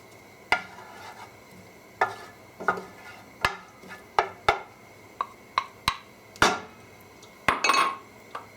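Garlic going into hot oil in a pan for rutabaga and ginger soup: a string of sharp metal clinks and knocks from a utensil against the pan, with a couple of brief soft sizzling bursts near the end, no voices.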